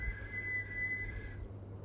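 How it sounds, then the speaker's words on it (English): A thin, steady whistle holds one high pitch for over a second, then stops abruptly, leaving a low background rumble. "That was a whistle."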